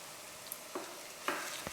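Ginger garlic paste frying in a pan, a faint, thin sizzle with a few soft stirring taps, quiet and without talk.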